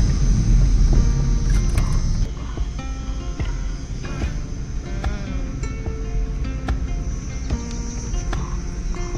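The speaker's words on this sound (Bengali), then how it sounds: "চারিদিকটা পুরো ঝিঝি পোকা ডাকছে।" Crickets chirp steadily along a forest road through the Halaguru wildlife sanctuary near Muthathi, a dense continuous insect buzz over a low engine rumble, with a few brief bird calls standing out.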